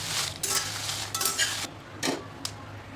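Kashmiri red chillies roast in a little oil in a pan for homemade kanda lasun masala, giving a soft, steady sizzle broken by short bursts of stirring and scraping.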